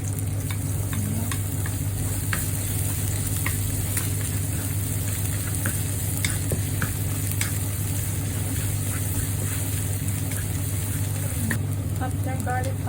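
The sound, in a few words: garlic frying in a pan with pork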